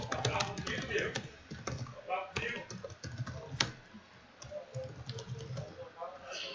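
Rapid, close clicking of keys on a computer keyboard as text is typed, steady and continuous with short pauses, alone without talk.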